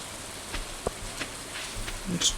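Steady soft rainfall patters in the Stardew Valley video game, a faint even hiss with a few light taps and a brief bump toward the end.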